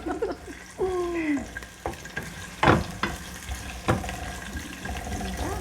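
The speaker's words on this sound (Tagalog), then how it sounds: "Then, we'll add the onions now." Onions fry in a pan with a continuous sizzle, broken by several sharp scraping and stirring knocks and a brief squeaky utensil sound early on.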